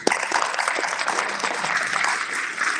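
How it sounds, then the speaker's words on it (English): Round of applause from the audience at a climate activism event, steady dense clapping from a crowd filling the whole stretch at moderate loudness. "Give a round of applause, folks."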